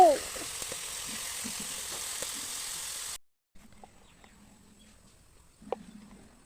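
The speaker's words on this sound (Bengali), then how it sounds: "তো তেলটা দিয়ে যে আলুগুলো ভেজে নিচ্ছি।" Potatoes sizzle and spit loudly as they fry in oil over a wind-blown open cooking fire. The sizzle runs steadily for about three seconds, then stops abruptly and leaves near-quiet with a few faint clinks and soft knocks.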